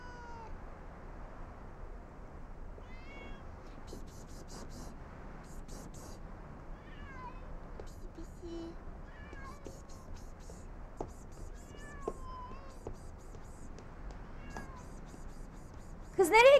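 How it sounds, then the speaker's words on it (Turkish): A cat meows repeatedly in short, high cries at a snowy house, soft and intermittent against a quiet background, with a louder burst at the very end. "Töre ablanın kedisi kaçtı"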